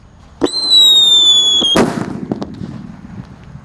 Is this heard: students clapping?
no